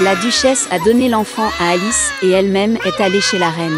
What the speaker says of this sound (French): le bébé a éclaté en sanglots